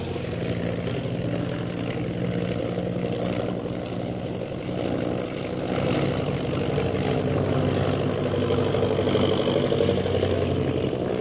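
A propeller airplane engine drones steadily and loudly throughout a stunt flight, with a slight rise in pitch and power toward the end; no voices.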